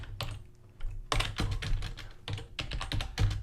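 Code being typed on a computer keyboard in rapid clusters of sharp, close key clicks, with a brief pause before a denser run of keystrokes, no talking.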